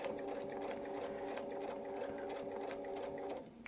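A sewing machine stitches a quarter-inch quilting line along a fan template, running as a steady, fast mechanical hum and rattle close by with no pauses.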